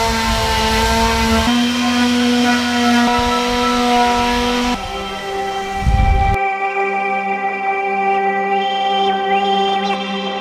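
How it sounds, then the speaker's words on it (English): A power sander buzzes steadily against a wooden freeze dryer cart, a high droning whine with shifting pitch as the pressure and position change, loud and close and heard alone. "I'm gonna sand everything down. I'm gonna smooth out all of the corners and edges"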